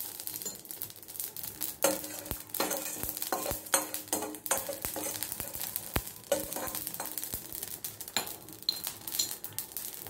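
Tempering spices fry in oil in a pan while being stirred, a steady close crackle broken by frequent sharp scrapes and clinks of the spoon against the metal.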